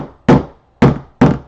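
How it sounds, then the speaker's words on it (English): A mallet knocks a paint can lid shut with three solid, close thunks at uneven spacing, each sharp and dull with a short decay, heard alone. "I'm just taking my mallet and closing my Junk Monkey paint."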